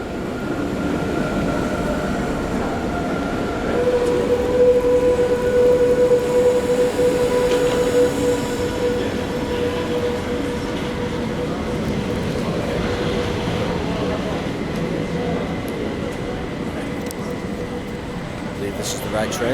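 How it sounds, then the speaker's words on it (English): A train waiting at a station in Geneva, Switzerland, with a steady rumbling hum and a thin sustained tone from the carriages, constant and fairly loud throughout, with voices talking in the background. "wait for my train to Zurich."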